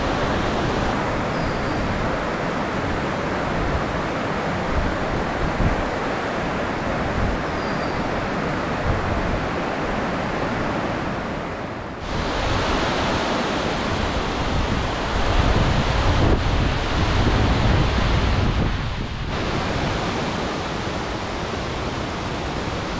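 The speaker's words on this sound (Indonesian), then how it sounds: "Dan akhirnya saya sampai juga di bawah air terjun Tumpak Sewu" A constant, heavy roar of falling water at the foot of Tumpak Sewu waterfall, East Java, loud and close, filling the whole stretch with dense rushing noise and occasional gusty shifts.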